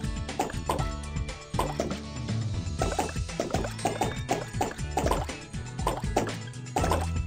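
Bubbles bursting in a primary-colors bubble blaster game, a steady run of short liquid plops and pops, some quick and close together, others spaced apart, over a continuous background music bed.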